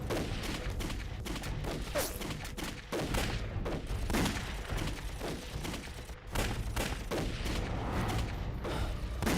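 Mortar blasts and gunfire erupt in a Chinese anti-Japanese war action movie, a dense, loud barrage of overlapping shots and booms rolling on without pause, with brief dips between volleys.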